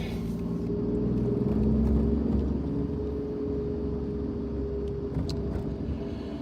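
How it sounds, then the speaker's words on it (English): Interior of a car driving through traffic in Japan, a steady low road and engine rumble with faint passing-vehicle swells and no talking. "Look, I'm driving on the left-hand side. Look at the traffic."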